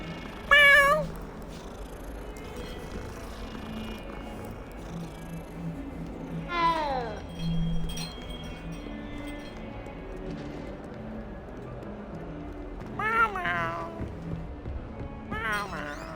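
A cat meows in the video game Hogwarts Legacy: three separate bursts of rising and falling meows, the first short and the later ones longer and more insistent, over a quiet background of soft game ambience.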